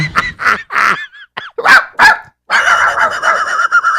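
A dog barks several times in quick, loud, close bursts, followed by a sustained noisy yelping or honking sound.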